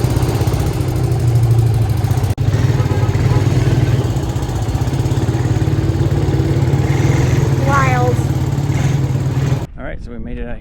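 Several ATV engines idle steadily out in the desert near the pyramids, a loud continuous low rumble that cuts out abruptly near the end, with voices talking underneath.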